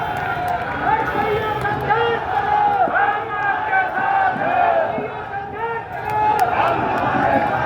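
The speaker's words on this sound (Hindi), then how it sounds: "ये नारों की आवाज" A crowd at an outdoor Congress election rally in Deori chants slogans together in loud repeated waves, the massed voices rising and falling steadily for several seconds.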